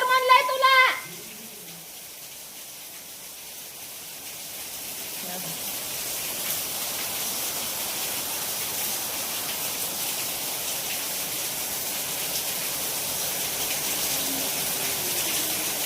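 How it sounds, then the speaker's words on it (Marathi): Heavy rain pours steadily as a broad, hissing wash of water after a brief burst of sound at the start, continuing evenly and fairly loud to the end. "लय पाऊस चालू झालाय"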